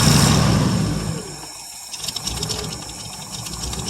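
A 1959 International B120 4x4 truck engine cranks and runs on its first cold start in years, loud and close, sputtering and dipping before catching again with an uneven, rattling rhythm.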